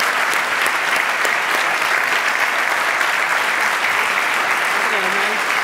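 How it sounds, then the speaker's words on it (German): A crowd of seminar attendees at a sales breakout session claps for a volunteer named Tanja, giving dense, even applause at close range throughout, with no speech over it. "Zuerst einmal einen Applaus."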